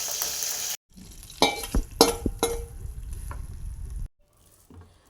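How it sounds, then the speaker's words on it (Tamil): Fenugreek seeds, curry leaves and asafoetida sizzling in hot oil for a dal rice tempering, a loud crackling hiss with sharp bursts and spatters, then a sudden cut to quiet. "கொஞ்சம் வெந்தயம் போட்டுட்டு வெந்தயம் பொரிஞ்சிச்சுங்க. கருவேப்பிலை போட்டுட்டேன்."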